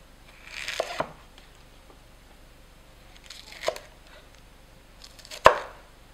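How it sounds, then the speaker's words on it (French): Fennel being sliced paper-thin on a mandoline set to its finest setting, giving a few separate crisp rasping strokes spaced a few seconds apart at close range, with quiet gaps between them. "Toujours à l'aide de notre mandoline réglée le plus finement possible, on tranche."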